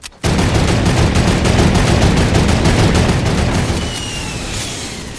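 Rapid automatic turret fire in Fortnite, a loud, dense burst of closely spaced shots that runs for about four seconds before tapering off.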